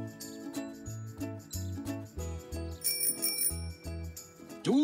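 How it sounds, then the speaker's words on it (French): A bright bicycle bell rings several times over soft background music, light metallic tings close by. "mon vélo a aussi une sonnette"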